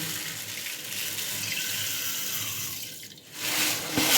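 Water pours steadily into a pan of sugar to make syrup for mini gulab jamun, a close continuous splashing rush that briefly dips before swelling again.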